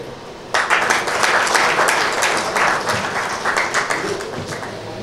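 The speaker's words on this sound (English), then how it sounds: "Could we have a huge round of applause" An audience at India's No. 1 Brand Awards 2017 ceremony breaks into sudden, loud, sustained applause. The clapping is dense and steady for several seconds before tapering slightly.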